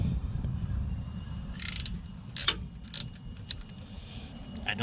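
A ratchet works a 10mm bolt on a Subaru Outback rear wheel bearing, giving a quick burst of sharp clicks followed by several separate metallic clicks, close up over a low background rumble.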